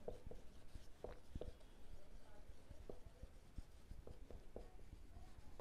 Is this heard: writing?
yes